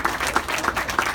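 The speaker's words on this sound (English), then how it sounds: "Give them a round of applause." Audience applause at a thrift store ribbon cutting, a steady patter of many hands clapping together at moderate volume with no talk over it.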